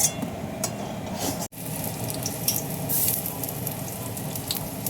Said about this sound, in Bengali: দেখুন, বড়াটা ছাড়ছি, কালো হয়ে যাচ্ছে, ফুলছে কীরকম, যেহেতু সোডা দিয়েছিলাম।